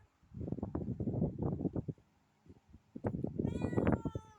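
A stray cat meows repeatedly up close, a run of short cries followed after a brief pause by a longer, higher-pitched series of meows, with faint wind in the background.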